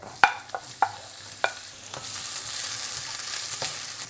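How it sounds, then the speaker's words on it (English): Onions sizzling in a frying pan while cooking jalapeño sardines, a steady hiss of frying with several sharp stirring clanks near the start. "Okay, and then we'll put in our onions"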